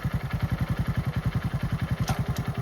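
A geared motorcycle engine idles with a steady, fast low thump, and a brief mechanical clunk near the end as a gear engages with the clutch pulled in.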